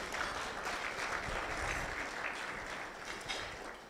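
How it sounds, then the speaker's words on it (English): An audience at a San Antonio city business event gives a steady, fairly faint round of applause that tapers slightly toward the end. "Another round of applause for Councilwoman Phyllis Viagran."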